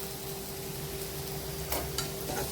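Sunday masala frying with onion for egg bhurji, a low steady sizzle with a few soft stirring scrapes toward the end.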